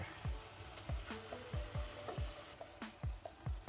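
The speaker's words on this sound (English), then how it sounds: "now I'm going to gently stir this. Get some of that okra down the bottom" Ackee and saltfish with okra being gently stirred in a frying pan, a steady sizzle broken by repeated soft spoon scrapes and taps against the pan, close and fairly quiet.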